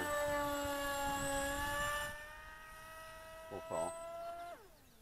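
The small electric motor of a cheap foam flying-wing RC plane whines at a high, steady pitch, then slides down as the motor winds down and cuts out; a voice speaks briefly over it.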